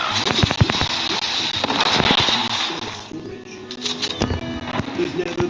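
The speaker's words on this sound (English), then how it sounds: "Predator missile inbound." Predator missile strike in Call of Duty Mobile, a dense burst of crackling impacts and popping blasts followed by scattered bangs, loud and close amid game effects.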